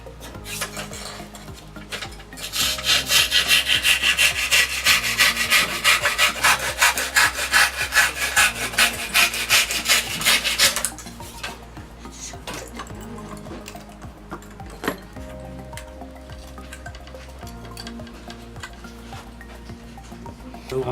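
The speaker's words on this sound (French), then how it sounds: "De cette façon, on pourra scier d'une seule main," A hand saw fitted with an attached back guide cuts through a wooden batten, making a loud, steady run of rapid rasping strokes for several seconds before it drops to quieter scraping and handling noises.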